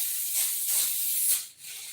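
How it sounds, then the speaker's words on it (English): Avocado oil sprays onto a clean griddle in a few short, airy hissing bursts that swell and fade, fairly close and alone. "oil spray."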